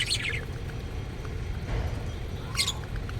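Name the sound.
pet bird chirping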